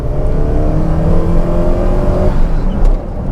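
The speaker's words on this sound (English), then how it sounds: "Here we are, revving the motor, wheel spinning into second gear." An older Hyundai car's engine revving hard under full throttle as the wheels spin and it shifts into second gear, a loud, close, sustained roar with a brief drop near the end.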